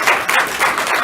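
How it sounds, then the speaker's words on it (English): Audience applause at a city commission meeting right after a unanimous vote: loud, dense clapping fills the whole brief moment. "Not supposed to allow the applause"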